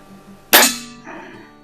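A single sharp shot from a vintage Walther LG55 air rifle, a loud crack that decays over about half a second, followed by a faint mechanical rattle.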